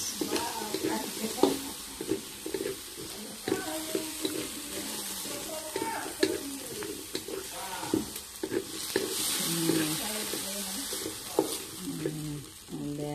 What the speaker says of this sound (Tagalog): Sahog na natin itong ating kalabasa.